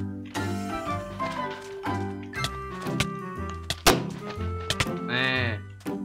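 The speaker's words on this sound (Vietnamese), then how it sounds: "Các bạn có nghe thấy hiệu ứng mà cái khiên mình đỡ lại không?" Shield blocks in Minecraft land as repeated solid thunks amid busy game music and effects, several sharp hits spread across the span, fairly close and prominent.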